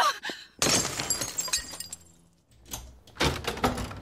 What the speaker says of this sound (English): I'm going to have to break the glass.